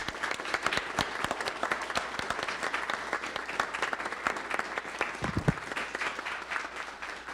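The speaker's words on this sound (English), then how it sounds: "Audience members, please join me in a round of applause." A seated audience breaks into applause at the close of a public talk, a steady patter of many hands that stays fairly even throughout without cheering.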